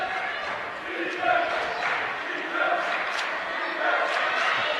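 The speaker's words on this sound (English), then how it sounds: "Crowd's getting into it with the student section." Crowd and student section cheer and shout at a high school girls basketball game between Elizabeth and Fort Morgan in a gym, a steady roar with swelling bursts of yelling.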